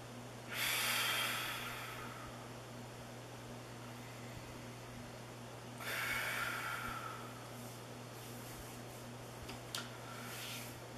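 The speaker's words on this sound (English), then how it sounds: "take in a deep breath with your nose" A person draws a deep breath in through the nose and then blows it out. Two long, close, airy breaths sound alone over a constant low hum, with a faint third puff near the end.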